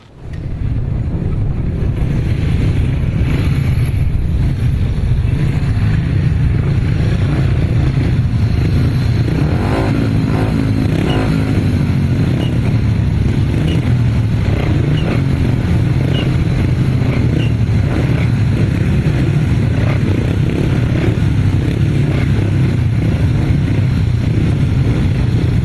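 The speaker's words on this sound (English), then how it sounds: "Next race, that's race 23, that's the 500cc solos." Solo 500cc motorcycles race on a grasstrack, their engines a loud, continuous roar that swells and shifts in pitch as the bikes pass, heavy with wind buffeting.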